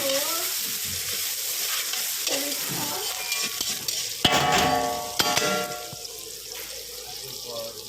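Chopped onions sizzle in a pan as they are stirred, with scraping and clinking of the utensil and a few brief louder clatters over the steady frying hiss.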